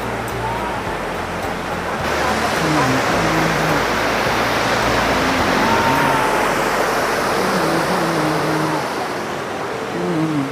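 Heavy monsoon rain near a hillside temple, a loud dense roar of downpour filling the whole stretch with a steady rushing texture and faint voices underneath.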